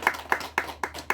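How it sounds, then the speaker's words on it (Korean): Applause in a church congregation, a short run of five sharp, evenly spaced hand claps, close and clear. "우리 하나님께 영광의 박수 올려드리겠습니다"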